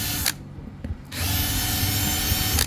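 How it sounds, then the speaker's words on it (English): Dremel rotary tool fitted with a small cone grinding stone, worked on RV fiberglass; a steady, loud motorized whine starts after a short pause and runs continuously, close up, with no talking. "if you have a Dremel with a little cone stone on it, you can open that up really easily"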